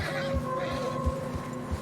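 A horse in the video game Red Dead Redemption 2 neighs with a drawn-out tonal whinny over a low hum, with a few dull thumps spaced apart beneath it, on a narrow trail in fresh snow.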